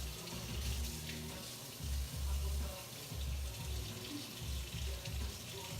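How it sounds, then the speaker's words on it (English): Hot water running in a steady stream into a soup pot of keto mushroom and meatball soup, a quiet continuous gush with faint low bumps, no voices. "So I'm gonna add in some hot water."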